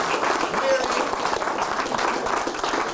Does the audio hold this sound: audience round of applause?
yes